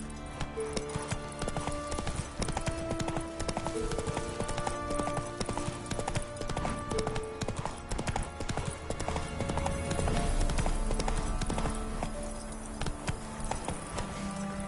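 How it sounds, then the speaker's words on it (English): Horse hooves clip-clop steadily at a walking pace in The Witcher 3, a continuous rhythmic patter over game music, with an occasional faint whinny. "Whoa there, Roach"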